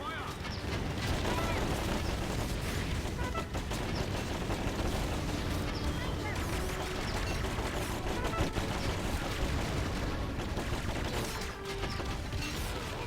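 Mortar fire and dense battlefield noise from the Battalion Wars 2 video game, a continuous loud wash of blasts, rumbles and mechanical clatter with scattered sharper impacts throughout.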